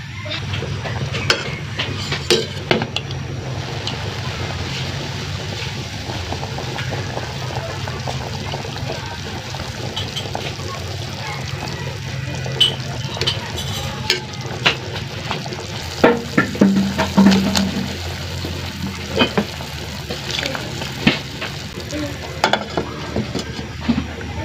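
Pork for sinigang sizzles and simmers in a pan in a steady, moderate bubbling hiss, with scattered clinks and stirring knocks nearby and no voices.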